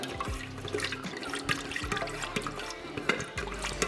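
Melted candle wax pours and splashes steadily into a container close by, with small bubbling and trickling sounds throughout.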